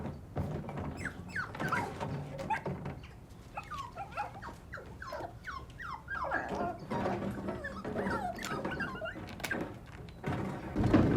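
Puppies in crates at a puppy-farm holding area on a TV drama set whimper, whine and yip in a steady scatter of short, high, wavering cries, with occasional dull knocks against the crates.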